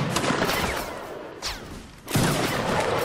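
Musket volleys in the Napoleonic Wars game line battle crack out as dense, overlapping rolling bursts, with a brief lull before another loud volley erupts.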